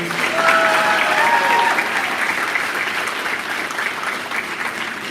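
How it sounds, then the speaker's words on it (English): Audience applause for school administrators at a school concert: a dense, steady wash of clapping from a large crowd that holds loud for several seconds and only slightly fades, with a brief whistle-like tone near the start. "let's give them a wonderful round of applause too"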